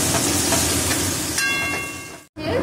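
Chicken frying in a pan with carrots and capsicum nearby, a steady broadband sizzle and hiss filling the clip, briefly cut off near the end before resuming.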